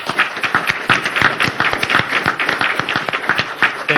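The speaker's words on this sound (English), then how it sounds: "so let's give them a round of applause." An audience at a state commission public hearing in White Plains claps in a steady round of applause, dense and fairly loud, filling the room with overlapping hand claps.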